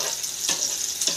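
Dhaba-style chicken tawa kabab fries in a pan until crisp, giving a steady close sizzle with a couple of soft stirring scrapes and no voices.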